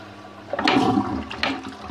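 A household toilet in a house in Neath, Wales, flushes in a short, close rush of water, with a brief surge and a second swirl of draining.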